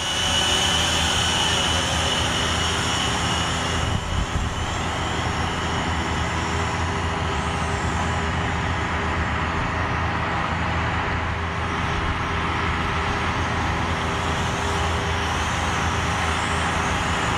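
A Snaptain SP500 GPS drone flies outdoors on a calm day, its propellers giving a continuous, steady, fairly loud whirring drone throughout, with no speech.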